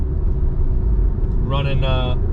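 Steady low engine and road rumble fills the cabin of a 2022 Subaru WRX with aftermarket exhaust and tune while driving, with a brief burst of a voice near the end.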